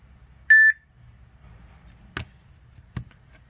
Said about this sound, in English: we try to use the smartwatch to make a call